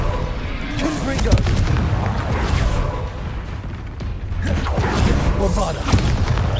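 Bombarda spell blasts in the Hogwarts Legacy video game, heavy rumbling booms in a dense continuous stretch of combat explosions, loud and close, with a character's shouted spell casts mixed in.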